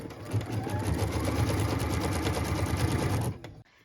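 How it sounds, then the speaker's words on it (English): An embroidery machine stitches a cut line for a pieced quilt block, a steady loud mechanical whir with rapid needle rhythm running continuously for over three seconds before stopping abruptly. "let's return the hoop to our machine. What we're stitching now is the cut line for piece number 4"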